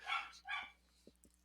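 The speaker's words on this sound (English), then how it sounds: "that's my dog in the background" A dog barks twice in quick succession, fairly close and clear, followed by a few faint taps and soft rustles in an otherwise quiet indoor room.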